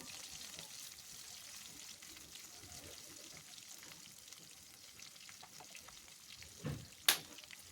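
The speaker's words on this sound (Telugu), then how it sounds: "ఇవి వేగిన తర్వాత తరిగి పెట్టుకున్న ఉల్లిపాయలు కరివేపాకు వేసుకొని వేయించుకోవాలండి" Chopped onions and curry leaves fry in a pan for a home drumstick and milk curry, giving a soft, faint sizzle with light stirring and a sharp clink near the end.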